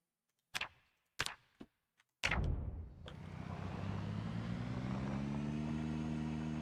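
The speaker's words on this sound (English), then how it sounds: "I think car noises are still really quiet" Car in Project Zomboid, a few sharp clunks and clicks, then an engine catching and settling into a steady low idling drone that holds to the end, close and fairly loud.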